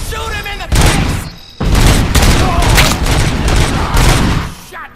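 Loud, dense gunfire from RoboCop: Rogue City, rapid bursts of shots and impacts filling nearly the whole stretch, with a brief gap near the start.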